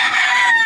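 Hens cluck in a short, close, continuous burst from a backyard flock of laying chickens, with no other sounds around them.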